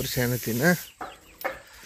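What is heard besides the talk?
chickens clucking in a farm chicken coop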